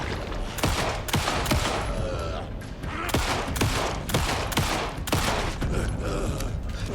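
Rapid bursts of gunfire from the video game Alan Wake 2, loud and close, firing in dense volleys with brief gaps, mixed with mechanical clanks and clicks of the weapon.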